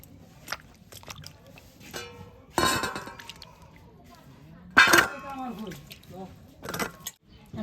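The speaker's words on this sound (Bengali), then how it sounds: "লাউটা গ্রেটার দিয়ে গ্রেট করে নিব" A bottle gourd is rubbed against a metal grater in a few separate bursts of rough, scratchy scraping, with quieter clinks and handling noises in between, close by.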